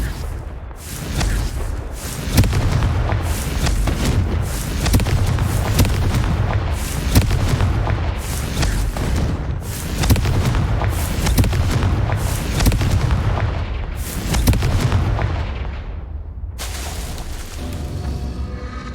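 Confringo blasting-spell explosions in the Hogwarts Legacy video game, a rapid series of loud, booming blasts about one per second, each with a rumbling tail, before a quieter fade at the end.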